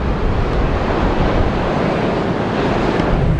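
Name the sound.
large Atlantic ocean waves crashing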